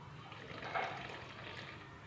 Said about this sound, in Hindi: और इसमें थोड़ा सा पानी ऐड करते हैं।